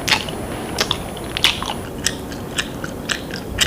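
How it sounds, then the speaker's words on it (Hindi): Noisy, wet chewing of food with open-mouthed smacking, close to the ear, crunchy bites repeating at a steady rhythm of roughly two per second, with no voices. "इससे भी एनोइंग है खाने को चपचप करते हुए चबाने का साउंड।"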